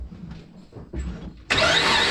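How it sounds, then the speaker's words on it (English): A Kazda car with an upgraded turbo is started up: a short cranking lurch, then the engine catches and settles into a loud, steady idle close by. "I'm gonna go ahead and start it up now"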